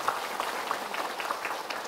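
Brief, fairly faint applause, a small group clapping in a quick scattered patter for a couple of seconds.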